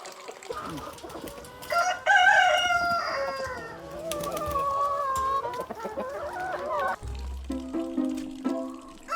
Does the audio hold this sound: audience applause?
no